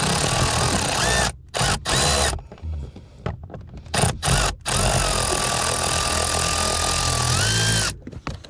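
A power drill spins out Torx screws from the blower motor resistor on a Pontiac Grand Prix, running in loud whirring bursts close by that are split by short silent pauses, the motor pitch sliding up and down, with no talking.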